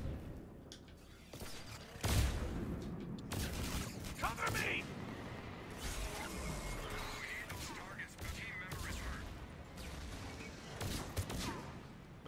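Several grenades burst in quick succession in Mass Effect 3 multiplayer, thrown in a cluster by possessed scions; sharp explosive cracks and crashes land one after another amid gunfire, with voices talking underneath.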